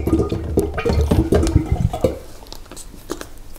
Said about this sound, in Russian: мы открываем масло и выливаем в нашу банку